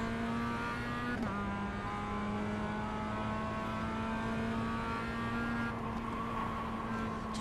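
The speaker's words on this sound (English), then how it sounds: "Just trying to modulate the throttle here to bring the back round or get the front to bite." Mazda MX-5 race car in iRacing at Oschersleben holds a steady, loud engine drone throughout, with a brief dip near the start and a slight rise in pitch late as the throttle is modulated mid-corner; no talking.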